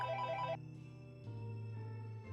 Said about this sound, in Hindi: वो अपनी जेब से फ़ोन निकालता है और फ़ोन को रिसीव करता है।